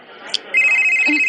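A cellphone ringtone starts abruptly and sounds as a steady, loud electronic tone close by, following a brief bit of household talk.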